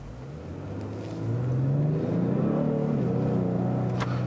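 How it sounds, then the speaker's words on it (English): A Genesis G70 3.3T automatic V6 sport sedan accelerates, its engine note rising steadily in pitch and growing louder after the first second, heard from the cabin with a smooth continuous rumble. "now I've switched to the automatic V6"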